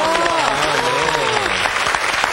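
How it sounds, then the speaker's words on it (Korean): A congregation at a Sunday afternoon church service gives a loud, close round of applause, with voices and cheering mixed into the steady clapping. "박수 한번 더 보내드리겠습니다"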